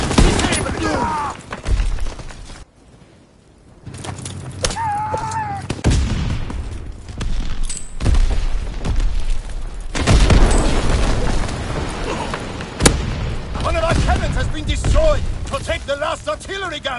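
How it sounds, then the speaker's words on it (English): Loud booming shots and gunfire in a Call of Duty World War II match, several heavy blasts spread through the clip amid battle noise, mixed with game voice callouts. "Artillery gun!"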